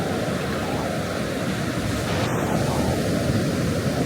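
Ocean surf at an Outer Banks beach makes a steady, loud, unbroken wash of noise, with wind buffeting the microphone throughout.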